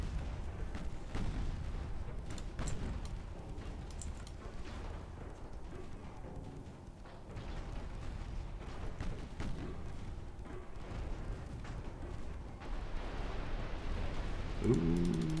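Naval guns fire in Ultimate Admiral Dreadnoughts, a run of muffled booms and thuds over a continuous low battle rumble, fairly quiet and distant.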